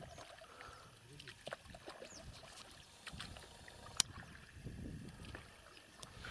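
A boat heads out on the water at the start of a fishing trip, with soft sloshing and paddle-like splashes and a few knocks under scattered nearby voices, the whole scene fairly quiet.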